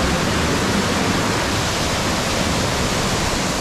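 A waterfall pours into a plunge pool on a mountain stream, a loud, steady, broadband roar that fills the whole stretch with no breaks and no voices.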